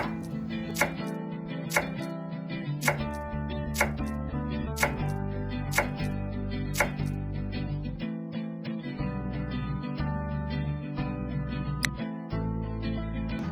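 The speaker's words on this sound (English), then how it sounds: "chopped tomato" Knife chopping tomato on a board while preparing an omelette, a steady run of sharp, close taps about once a second over a continuous background of music.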